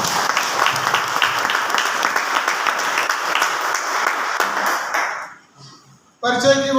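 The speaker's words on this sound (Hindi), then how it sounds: "तालियां होंगी" Applause from a seminar audience at a business success event, dense steady clapping for about five seconds that tapers off and fades out, followed by a brief burst of other sound.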